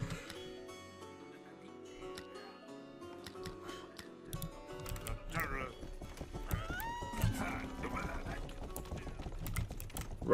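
Horse riding in the video game Rustler, with hoof clip-clops and game effects over background music, voices talking throughout.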